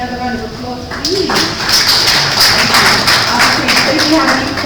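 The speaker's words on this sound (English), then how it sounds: "Another round of applause, please." A voice speaks briefly, then a burst of audience clapping fills the room at a tech talk, loud and steady to the end.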